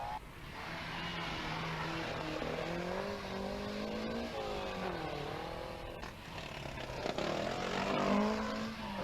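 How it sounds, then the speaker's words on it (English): A rough, sick-running rally car engine labours and revs along a roadside stage of the Cork Rally, a steady droning note that rises and falls, moderately distant and fairly faint. "Rather sick-sounding car"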